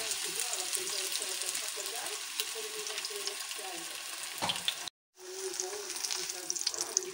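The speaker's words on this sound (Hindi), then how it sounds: "कीमे के जो है वो कबाब बना के आप इसको हल्के से तेल में फ्राई कर लें" Minced-meat kebabs frying lightly in a shallow layer of oil, a steady crackling sizzle throughout with a brief clatter and a momentary silent break near the end before the sizzling resumes.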